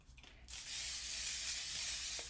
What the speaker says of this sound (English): This hairspray, this is the finishing spray by Kenra.